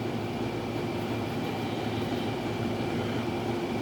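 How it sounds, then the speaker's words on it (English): A home air conditioner and a washing machine doing laundry run together as a steady, even mechanical hum and whir with a faint tonal whine, constant throughout with no talking. "that's my air conditioning from behind me and my washing machine doing laundry."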